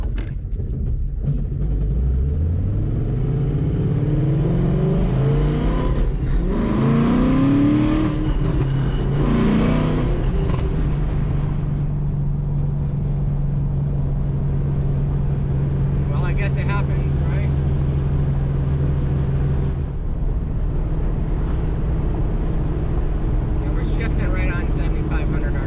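A car with a slipping Lethal Performance 525 Street Fighter clutch accelerates hard, engine revs climbing and sweeping up loudly, then holding a steady drone, with voices talking over it.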